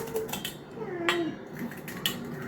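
A knife cuts through a leftover cooked vegetable dish, giving a few scattered clinks and scrapes of metal on a plate or pan against quiet room tone.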